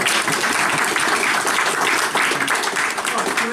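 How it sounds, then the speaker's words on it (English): Audience applause at a folk club's Burns Night, a dense, steady wash of clapping from a crowd filling the room throughout, with a little voice mixed in. "a big hand for the deaf crowd"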